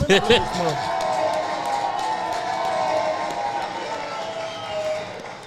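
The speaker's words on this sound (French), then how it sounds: "Ouais, une main d'applaudissement." Audience applause and cheering form a dense, steady wash of clapping at moderate distance, with a few sharper claps at the start and the crowd noise holding evenly throughout.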